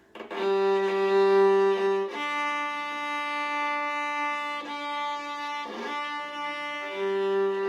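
Viola bowed with too much pressure, a sustained gritty tone held across several long strokes, with brief scratchy breaks where the bow changes direction, close and fairly loud.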